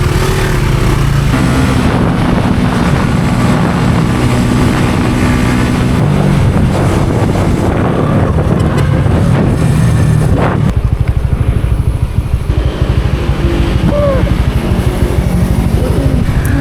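A Yamaha Mio scooter rides at night, its engine a loud, steady buzzing drone mixed with wind rush, changing pitch as it accelerates, with occasional voices over it.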